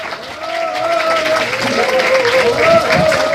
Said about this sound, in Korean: 여러분들 큰 박수 부탁드리겠습니다